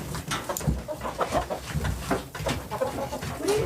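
Backyard flock of chickens with a rooster, steady overlapping clucks and murmurs close by, dense and continuous with scattered sharper calls.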